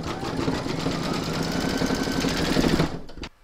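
An embroidery machine stitches a round of a large reindeer appliqué in a close, busy, rhythmic whir with a rattling needle pulse, ending with a few clicks as it stops.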